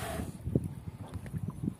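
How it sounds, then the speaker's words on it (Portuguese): Strong wind buffeting the microphone in a low, steady rumble with gusty swells, heard outdoors and close, while out fishing. "hoje aqui tá uma ventania"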